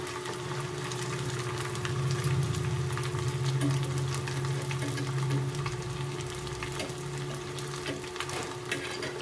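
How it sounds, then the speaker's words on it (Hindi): Leftover rice balls fry in oil over a low flame, producing a steady, fairly soft bubbling sizzle with a faint background hum and no voices. "बॉल को हमें गोल्डन फ्राई करना है।"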